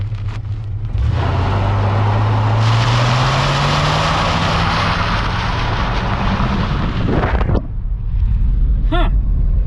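A 1960s car driving on a dirt road, its engine revving up with a rising drone and a loud rumbling roar under gravel and road noise, heard from inside the car, ending with a brief tonal squeal.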